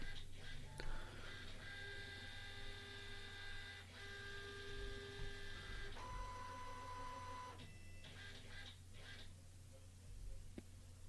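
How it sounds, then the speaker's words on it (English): A Xerox B315 laser printer's flatbed scanner runs a scan pass, giving a steady mechanical whirr with tonal motor whines, shifting pitch and clicks throughout, heard close up with no talking. "So I've just put something on the flatbed scanner, and I'll just do scan next segment."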